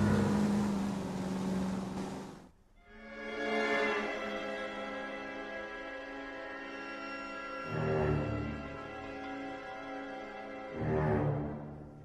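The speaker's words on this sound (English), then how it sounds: "That's the car, Cole. Just pulling out of the drive." A car's engine revs and accelerates as it pulls out of a driveway in LA Noire, a steady tonal motor drone with rises in pitch, heard at moderate distance without speech.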